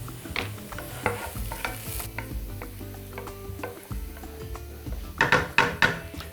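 Carrots frying in a pan, with steady stirring scrapes and a soft sizzle throughout, then a burst of louder clattering stirs near the end; no talking.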